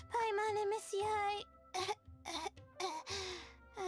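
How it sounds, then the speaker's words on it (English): A female game character coughing in Genshin Impact, several short raspy bursts broken by brief pauses, close and fairly loud, mixed with strained vocal sounds. "That is a cough."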